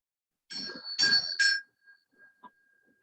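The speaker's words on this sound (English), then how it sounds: "hear the sounds of the tuning forks, the singing bells and the waking bell." Struck tuning forks and singing bells ring out in a sound therapy session, a few bright metallic tones in quick succession that leave a long, thin sustained ring fading into quiet.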